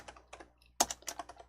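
Computer keyboard keys typed in short bursts while entering a file name, a few quick clicks, a pause, then a louder rapid flurry of keystrokes, close and clear with no talking.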